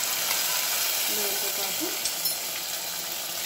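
Hot tempering poured into cooked Malabar spinach dal, Andhra style, makes a close, continuous sizzling hiss that holds evenly throughout, with a brief spoken phrase over it.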